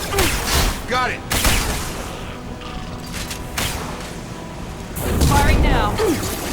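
Bursts of gunfire and mechanical clanks in Mass Effect 2, loud and close, coming in clusters with pauses between them. Voices speak over parts of the action.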